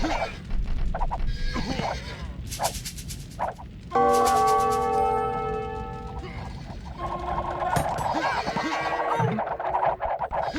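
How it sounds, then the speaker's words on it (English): A town bell rings out in Age of Empires 2: a sustained, ringing metallic tone that swells suddenly and slowly fades, set among clattering in-game battle and unit sounds. "I don't use the town bell very often, but now and then I do."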